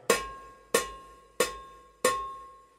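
Cowbell played with a cross stick using dead strokes, the stick held against the metal, four evenly spaced sharp clanks with a short, slightly damped ring after each, close with no talking.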